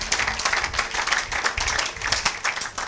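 A church congregation claps and applauds together in a steady, dense wash of hand claps, loud and close, with a faint voice mixed in.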